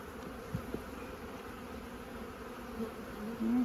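Bees buzz steadily and close by during hive sampling with a bee vac in a 4x4 trial, a continuous drone with a few louder passes near the end.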